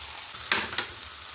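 Paneer masala with schezwan chutney and ketchup cooking in a pan for a spicy paneer frankie roll. A low steady sizzle runs throughout, with two short bright scraping stirs close by and no talking.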